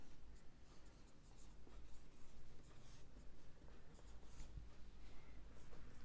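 A physics equation is written out by hand, giving a faint, continuous scratching of pen on paper heard close and alone.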